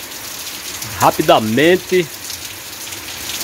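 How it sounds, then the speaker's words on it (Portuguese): Steady rain falling in the Zona da Mata countryside at Joaquim Gomes, Alagoas, a constant even hiss throughout, with someone briefly speaking over it midway. "O tempo mudou para chuva, meu povo."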